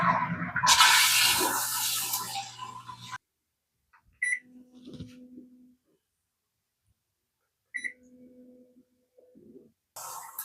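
A smart bidet toilet flushes manually with a loud, close rush of water lasting about three seconds that cuts off abruptly, followed by quiet stretches broken by short electronic beeps and faint mechanical hums.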